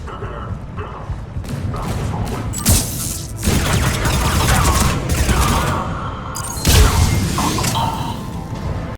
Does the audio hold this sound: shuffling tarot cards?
no